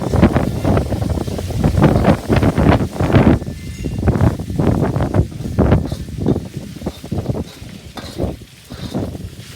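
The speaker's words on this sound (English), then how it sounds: "look at that wind blowing" Strong wind blowing outdoors beside a hot wok burner, buffeting the microphone in loud, irregular gusts with rumbling low roars, close and continuous without talk.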